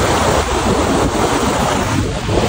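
Loud, dense rushing river water roars without a break, a constant turbulent wash close by, the river running high in the mountains.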